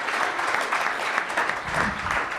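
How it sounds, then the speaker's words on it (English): Audience applause fills the room throughout, dense and continuous clapping from a crowd at a podcast-style live event, steady and loud with no break. "Will you applaud an original?"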